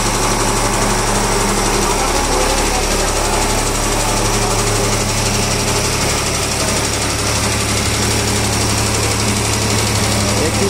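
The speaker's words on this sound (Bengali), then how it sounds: "খেপিমা সাউন্ড রেডি হয়ে যাওয়ার পর ইঞ্জিন স্টার্ট করে দিয়েছে" Engine of the Khepima sound system setup running steadily, a loud, dense mechanical drone with a buzzy high whine that holds throughout without pause.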